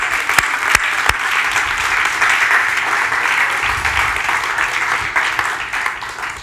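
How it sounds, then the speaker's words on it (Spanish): A church congregation at a Spanish-language worship service bursts into sustained applause, a loud dense wash of clapping that continues steadily without talk. "Dale un aplauso al Señor,"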